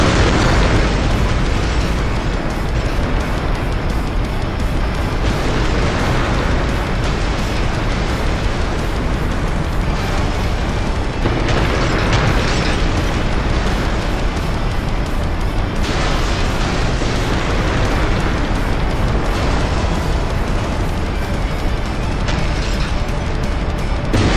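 Buildings explode and crumble across a city in the game CitySmash, a continuous roar of blasts, bursts and rumbling debris with no letup, loud and dense throughout.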